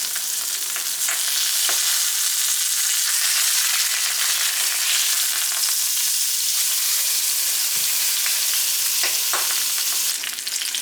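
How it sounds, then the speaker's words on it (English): A large beef roast browns in a hot pan before going into a slow cooker with beer, giving a loud, unbroken sizzle with occasional faint spatters and scrapes. No one speaks. "now that my pan's nice and hot, I'm gonna go ahead and brown this on all sides"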